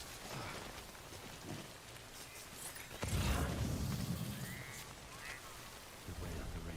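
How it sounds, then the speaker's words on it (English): Steady rain in a video game patters under a low rumble, with a louder burst of rushing noise partway through, like a gust or distant thunder. "Good way out the rain over there."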